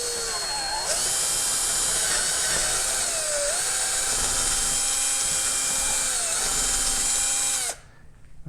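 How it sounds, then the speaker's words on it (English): A power drill bores a hole through plywood beneath HO model railroad track, a loud, steady whine with small pitch dips as it bites, stopping abruptly near the end. "I'm going to drill a hole right smack in the middle of this track"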